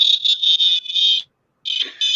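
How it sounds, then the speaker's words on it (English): A paranormal investigation device gives loud, high electronic beeps up close, a sustained tone broken into pulses, then a short silence before beeping resumes. "Mine beeps. It makes pretty noise, lights and stuff, so it's easy to see on camera."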